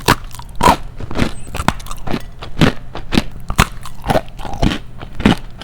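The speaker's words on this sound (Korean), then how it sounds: "완전 바삭하고 담백해." Repeated crisp crunching bites into a dry, crunchy vegan cookie with macadamia and brown rice, close to the mic, with steady chewing crackles between bites and no talking.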